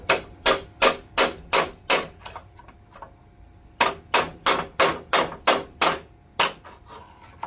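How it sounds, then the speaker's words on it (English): A hammer pounds a stuck part out of an old, rusty Yard Machines snowblower, sharp metallic blows in two steady rapid bursts of about seven strikes each, separated by a short pause. "It's just taking a little bit more pounding because the age of it, so it looks like it is coming out slowly."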